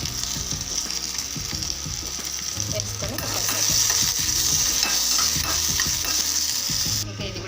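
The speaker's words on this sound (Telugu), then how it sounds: "ఇప్పుడు పచ్చిమిర్చి వేయించుకుందాం పచ్చిమిర్చి కొంచెం ఆయిల్ వేస్తున్నాం" Green chillies sizzle and crackle steadily in oil in a pan, with scraping stirring clicks throughout, the frying growing louder midway.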